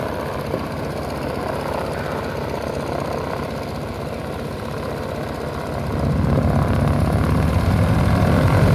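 A Stearman propeller biplane engine throbs steadily at an airfield, then swells louder as it goes to full power near the end, a continuous rough drone with no talk.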